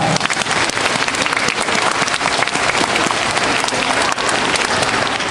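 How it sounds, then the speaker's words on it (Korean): Dense, loud applause fills a school principal's retirement ceremony, a continuous wash of many hands clapping with no pause. "힘찬 박수 한번 주시기 바랍니다"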